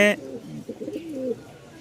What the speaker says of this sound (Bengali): দুই জোড়া কবুতর দেখতে পাচ্ছেন